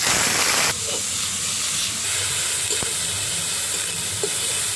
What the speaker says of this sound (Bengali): তেল গরম হয়ে গেছে এলাচ দারচিনি আর তেজপাতা ফোড়ন দিয়ে দেবো বাটা পেঁয়াজ দিয়ে দিই